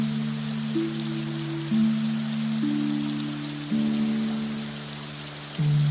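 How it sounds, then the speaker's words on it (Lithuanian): Summer rain falls in a steady, even hiss, with soft sustained musical tones shifting underneath throughout. "Vasaros lietuje."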